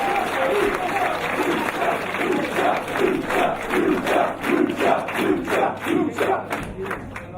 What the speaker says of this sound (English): Angelico inspiring lucha chants from this capacity crowd in Southampton